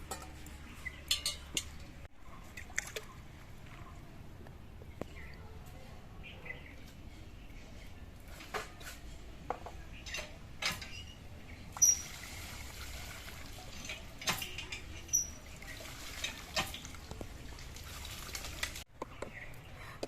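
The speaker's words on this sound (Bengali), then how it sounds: "আমি কলে গিয়ে মাছটা ধুয়ে নিচ্ছি" Small khoira fish are rinsed under a running tap, with a faint steady trickle of water and scattered light clinks and splashes from handling, a voice occasionally speaking over it.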